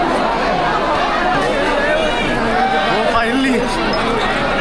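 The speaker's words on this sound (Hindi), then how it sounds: "और भाई भीड़ देखो" Dense crowd of pilgrims murmuring and chattering at Barsana temple, a steady close hubbub of many voices with someone talking over it.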